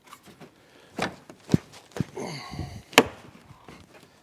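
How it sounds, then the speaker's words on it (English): Plastic upper grille molding on a 2013 Honda CR-V is pressed back onto its yellow retaining clips, giving several sharp, close clicks and knocks at irregular intervals. Two of the snaps stand out louder than the rest, with soft handling noise in between. "You could really hear that one click into place."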